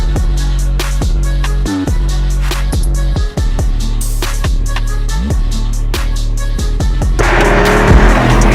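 A Mercedes GT63s bought at auction is driven, its engine loud and close with repeated rising revs and shifts, tires rumbling over the road, and a brief surge of throttle near the end.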